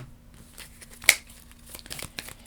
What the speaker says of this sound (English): So we're going to shuffle those 4 back into our deck.